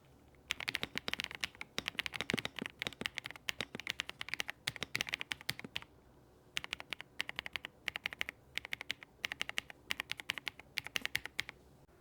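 Rapid, crisp typing on a Phronesis AI mechanical keyboard, close and alone, with bursts of quick keystrokes broken by short pauses.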